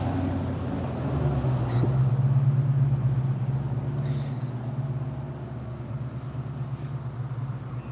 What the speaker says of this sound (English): I hear an engine sound syncing up again as the whitey truck drives through.